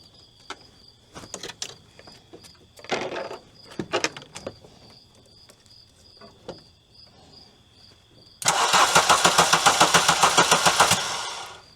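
Old VW car left in storage for 18 years cranking and catching after a few scattered clicks and knocks, then a loud rapid chugging burst near the end, with insects chirping faintly behind.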